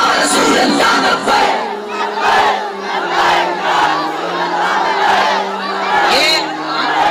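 Large crowd loudly chanting religious slogans in unison at a sermon, rhythmic massed voices rising and falling in waves, close and powerful throughout.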